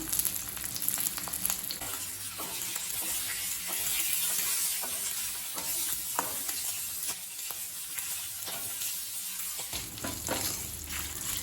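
Green chilies, a dried chili, curry leaves and asafoetida sautéing in oil, a soft continuous sizzle with frequent scraping clicks from stirring, fairly quiet and close, no talking.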